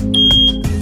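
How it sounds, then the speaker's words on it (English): A First Alert BRK SC9120B hardwired smoke and carbon monoxide alarm gives a loud, piercing electronic beep, brief and close, over a low hum. "When an alarm is triggered, you'll hear a loud 85-decibel T3 pattern chirp to alert you."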